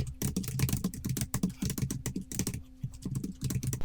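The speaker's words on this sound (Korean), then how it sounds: "일요일 이렇게 쓰시고 탭 누르고 내려가셔서" Fingers type quickly on a computer keyboard while entering weekday names into an Excel spreadsheet, with a tab key press among them. The keystrokes come as close, irregular bursts of clicks separated by short pauses.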